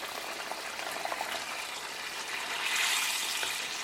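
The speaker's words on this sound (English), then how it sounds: "Our gravy is on simmer and it's simmering slowly" Lobster tail curry gravy simmering slowly in a pot, a steady soft bubbling hiss that swells slightly louder toward the end, heard alone without talk.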